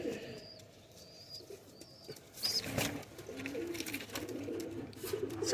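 High flyer pigeon chicks chirp with thin, repeated high peeps, mixed with soft cooing and brief rustling near the birds.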